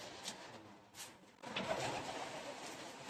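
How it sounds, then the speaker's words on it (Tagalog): Pet pigeons kept at home coo softly, a faint start that swells after a brief pause into steady, close cooing and murmuring that continues to the end, with no talk over it. "Take natin yung ating mga alagang ibon."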